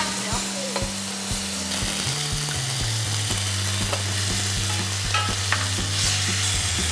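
Garlic, onions and leek frying in a soup pot, giving a continuous close sizzle stirred with occasional utensil knocks, over a steady low hum from the stove or fan.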